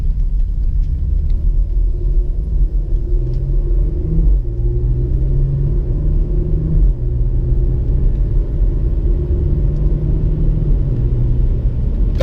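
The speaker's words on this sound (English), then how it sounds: "Look at that downshift." A 2018 Porsche Macan S engine rumbles loudly through a downshift, a deep steady drone with shifting low tones and a brief dip in the middle, heard close without talk.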